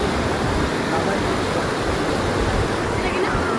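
A river in Mindanao rushes steadily as a broad, loud wash of flowing water, constant and close, with no break across the clip.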